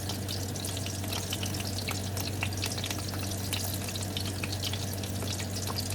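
Pork sausage fries in a pan with a constant close sizzle and fine popping spatter, steady and fairly quiet, over a low background hum.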